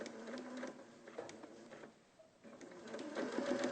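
A sewing machine stitches around a curve in short bursts, its quiet mechanical whir pausing briefly midway as the fabric is turned before the stitching resumes, close and alone.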